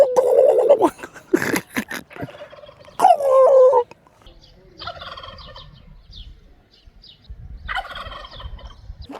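Turkeys gobble loudly in rapid bursts in Albania, followed by softer rattling calls from the flock, some nearby and some farther off.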